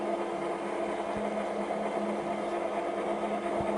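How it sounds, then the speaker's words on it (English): Steady diesel locomotive engine drone in the Trainz railroad simulator on a Central Oregon and Pacific Railroad route, a continuous low hum with tonal layers and faint periodic thumps, no talk. "I'll turn it down so I won't hear the engine sounds."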